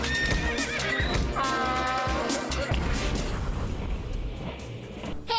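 A horse gives a loud, sustained neigh and whinny, its voice wavering high over a dense, noisy backdrop of crashing and thumping sounds.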